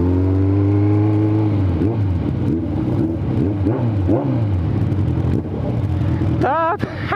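A Suzuki GSX750F motorcycle with a full exhaust runs close by, its engine note rising and falling through several revs with a rough, throaty rumble, ending in a quick high whine, loud and continuous with voices underneath.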